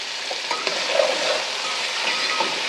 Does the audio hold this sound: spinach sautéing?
yes